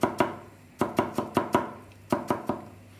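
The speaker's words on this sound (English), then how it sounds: "And we're going to cut them into a brunoise shape." A kitchen knife chops shallots into a fine brunoise on a board in quick clusters of crisp, close taps separated by short pauses.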